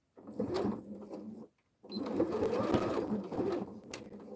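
A Janome sewing machine runs a straight stitch in two bursts of steady motor whirr and needle chatter, close and fairly loud, with a brief pause between runs.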